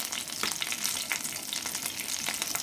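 Curry leaves and ground spices sizzling and crackling in hot oil in a pan, a steady close frying hiss with sharp pops, for a Tamil colocasia root stir-fry.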